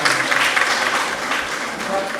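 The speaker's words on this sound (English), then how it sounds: "So let's clap for him." Applause from an audience at a peace conference, a steady dense wash of hand clapping with some voices mixed in, loud and continuous throughout.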